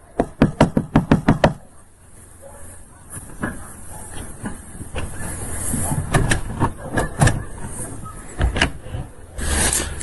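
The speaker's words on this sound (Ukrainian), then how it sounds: "Стучимо у двері, хай просипається." A quick burst of about eight loud, evenly spaced knocks on a door, followed by muffled rumbling and a few scattered thuds.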